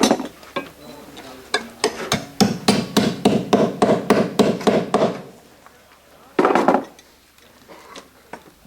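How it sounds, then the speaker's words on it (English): Hammer blows flattening a copper tab over nail heads on a curved standing seam copper roof, a quick run of a dozen or so sharp metallic strikes, then a pause and one more hit. "the remaining tab gets broken back over the nail heads to keep them from protruding through the standing seam. That gets hammered flat."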